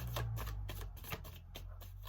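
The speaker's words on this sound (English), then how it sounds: "you saw me shuffle" Tarot cards being shuffled by hand, a steady run of soft papery riffles and taps close to the mic, with no talking.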